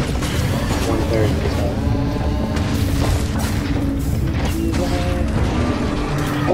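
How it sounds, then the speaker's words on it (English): Repeated booming explosions from a bow's shots in the video game Minecraft Dungeons, thumping in quick succession amid a loud, busy mix of battle sounds. "I forgot that the bow has explosions on it."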